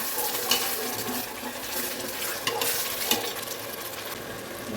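Steady sizzling of vegetables sautéing in a pan for veg biryani, with occasional stirring clinks and scrapes over a constant hiss.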